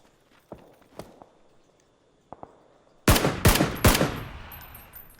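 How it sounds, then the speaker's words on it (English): Video game gunfire: a few scattered single shots early on, then a loud close burst of rapid shots that trails into echoing reports, with no talking. "I'm hearing shots over here"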